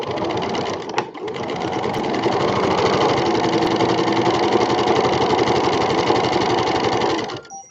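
A sewing machine runs continuously at steady speed, stitching fabric for baby drool scarves. The motor hum and rapid needle chatter are loud and close, with a short pause near the start and a stop at the end.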